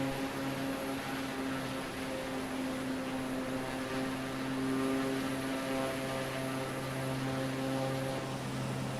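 Steady propeller-airplane engine drone from a light aircraft in Microsoft Flight Simulator, flying near Merrill Field in Anchorage, Alaska, with strong low harmonics humming continuously and evenly throughout.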